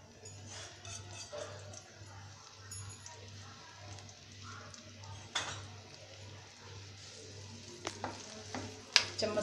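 Chopped onions fry in a heated pan for Indian-style pasta, giving a soft, faint sizzle with light clicks of a spoon stirring, beneath a steady low hum and brief bits of talk.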